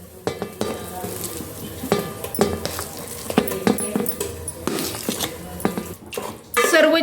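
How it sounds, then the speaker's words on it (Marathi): Boiled, mashed potatoes for a dabeli filling go into a pan and are stirred, with repeated scrapes and metallic clanks of a spoon against the pan over a light sizzle, loud and close. "उकडलेले बटाटे घालत आहे."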